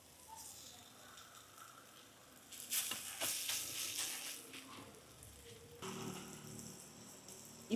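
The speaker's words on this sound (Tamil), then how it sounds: "இப்போ மிளகாத்தூளை நல்லா எண்ணெயிலேயே வதக்கி எடுப்போம்." Chili powder fries in hot oil for an egg curry, giving a soft, steady sizzle and crackle that grows louder partway through, heard close and fairly quiet with some talk.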